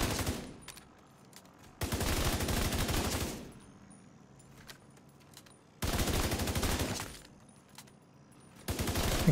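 Sustained automatic gunfire from a video game weapon build in long rapid bursts, three loud volleys separated by quieter gaps with scattered shots and a faint high tone, no talking.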